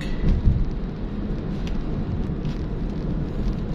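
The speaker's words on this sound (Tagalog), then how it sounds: "Ayun, magbagsak ng ulan." Rain beginning to fall with low rumbling thunder while driving through the Makati area near the airport terminals at dusk, a steady broadband wash with a deeper rumble swelling early on, heard alone without talk.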